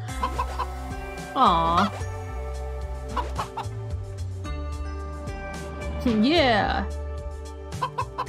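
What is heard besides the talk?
rooster clucking in video game A Space for the Unbound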